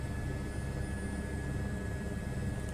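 Steady helicopter engine and rotor drone from Microsoft Flight Simulator 2024, a dense continuous whine and rumble held at even loudness throughout with a thin high tone riding on top.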